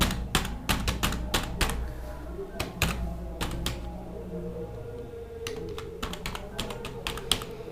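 An email address being typed on a computer keyboard: bursts of quick, crisp key clicks close by, with brief pauses between runs. Faint background hum throughout.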